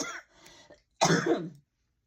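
A person coughs hard once or twice near the start, then gives a louder, longer throaty cough a moment later, up close in a quiet room before silence.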